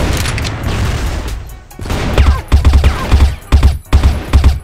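Video game gunfire in a first-person shooter, loud close bursts of rapid shots in several short volleys with brief gaps between them, carrying heavy low booms.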